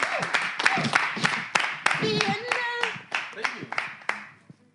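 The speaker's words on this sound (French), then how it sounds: "merci d'applaudir pour accueillir Monsieur le pasteur et Madame la traductrice" Scattered, uneven clapping from a church congregation greets a pastor and a translator, mixed with voices and a few shouted exclamations, thinning out as it fades.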